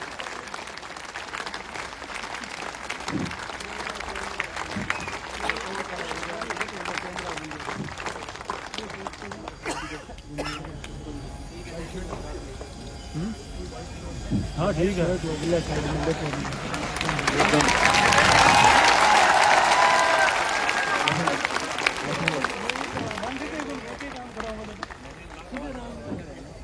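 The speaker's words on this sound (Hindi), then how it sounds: "आपकी तालियां रुकनी नहीं चाहिए जब तक कि सर बोल नहीं देते" Audience applause at a Gyanodaya 3.0 lecture event in Suratgarh, a steady crowd clapping under ongoing talk that swells louder toward the end before fading again.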